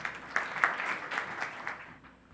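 Audience applause welcoming speakers at a health reform presentation, a brief burst of crowd clapping with a few sharp close claps, tapering off within a couple of seconds.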